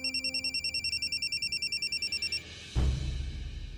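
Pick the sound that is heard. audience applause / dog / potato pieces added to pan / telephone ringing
telephone ringing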